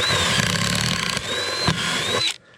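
A power drill drives pocket hole screws into wood for a custom barn door, whining loud and close in two or three sustained bursts with rising pitch, then stopping abruptly.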